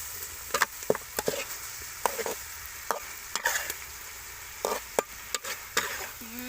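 Fish and soybeans cook together in a pan with ginger, a soft low sizzle punctuated by irregular sharp scrapes and taps of a utensil stirring, close but fairly quiet.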